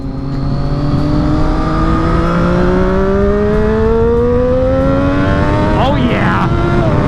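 A 128 hp three-cylinder Triumph Daytona 675R accelerates hard in second gear over a bridge, its loud, close engine note climbing steadily in pitch, then a quick shift near the end.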